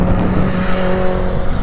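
A Suzuki Bandit motorcycle passes close by, its engine a loud, steady buzzing drone with no pause, heard alone for a moment.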